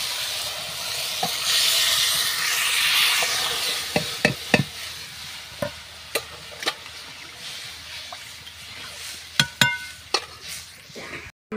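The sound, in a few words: spice tempering sizzling in mung dal while stirring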